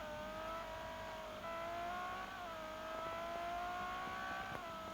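A Ferrari 599 GTO driven slowly with early braking, its engine a steady, moderately quiet drone with slight rises and dips in pitch, heard alone without talk.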